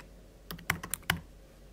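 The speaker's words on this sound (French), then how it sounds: "vous allez dans la barre de recherche ici, vous allez écrire Learn" A handful of quick keystrokes on a computer keyboard, about five taps in an irregular burst, as a phrase is entered into a search bar; close and fairly clear over a quiet room, with no talking.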